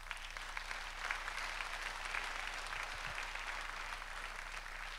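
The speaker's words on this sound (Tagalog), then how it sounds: "pumalakpak po ng malakas." A church congregation claps loudly and steadily, a dense, continuous wash of applause that fills the room without pause.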